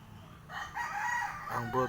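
A seven-month-old straight comb bulik rooster crows once, a fairly faint drawn-out call with a rising then falling tail, heard outdoors against low background noise.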